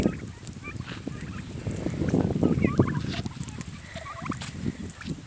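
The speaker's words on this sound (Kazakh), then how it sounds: "Мінекей мынау күрке тауықтар." Four-month-old turkey poults gobble repeatedly on a village farm, a chorus of overlapping calls at moderate distance amid outdoor background noise.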